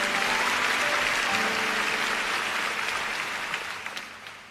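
A church congregation claps for Jesus at a worship service led by Ps Philip Mantofa, a dense, steady wash of hand claps filling the room and tapering slightly toward the end, with faint tonal hum beneath.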